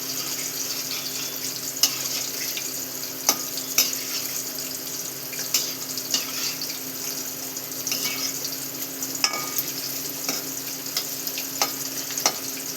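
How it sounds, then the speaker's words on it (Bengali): Masoor dal fritters frying in white oil, a steady moderate sizzle with occasional sharp pops and light stirring clicks, close and without talk. "সাদা তেলেই ভেজে নিচ্ছি।"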